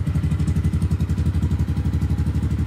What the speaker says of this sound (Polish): Ciekawe, czy Husqvarna odpali za pierwszy.